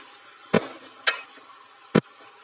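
A utensil scrapes and stirs chicken pieces cooking in a pan, three short sharp clatters spaced apart over a quiet background with no talk.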